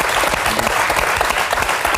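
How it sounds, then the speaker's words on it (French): Dense, steady applause from a TV studio audience welcoming a guest on a French talk show, close and continuous with no break across the whole stretch. "Je vous demande d'applaudir Jean Rachid."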